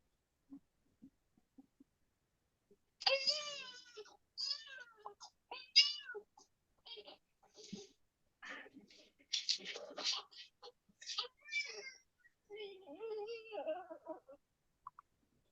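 A baby cries in repeated wavering, high-pitched wails and whimpers, close and fairly loud, with short pauses between bursts after a few faint ticks at the start.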